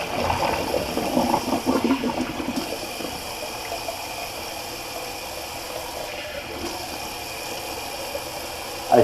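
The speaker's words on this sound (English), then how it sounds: "Just going to do the old cold water rinse." Cold water gushes from a tap into a sink for a couple of seconds, then the flow quiets to a soft, steady trickle and hiss.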